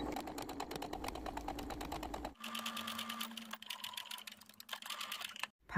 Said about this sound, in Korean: 안에서 1cm 라인에 박음질 한번 합니다.